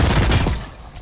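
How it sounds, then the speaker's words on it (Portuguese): A burst of several rapid gunshots from the video game Bloodhunt, loud and close, fading quickly into a brief echoing tail. "Agora foram vários tiros de cada vez."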